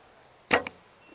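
A Falco Myth bow is shot once, giving a sharp, close snap of the string and a quick faint after-knock, with quiet surroundings.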